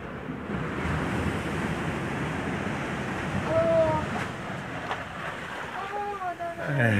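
Waves wash in at an abandoned beach house on Isla Colon, Bocas del Toro, Panama, a steady close rush of surf with some wind buffeting, while voices are faintly heard now and then.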